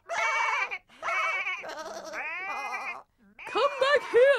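Several sheep bleat in turn, wavering high-pitched calls one after another, close and fairly clear with brief gaps between them.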